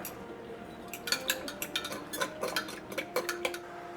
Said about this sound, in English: you go ahead and give this a good stir and sit to the side